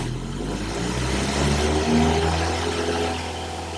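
A car engine revved and held at about 2,500 RPM during a battery and charging system test, a steady mid-pitched drone that rises slightly and then eases back, close and continuous with no talk.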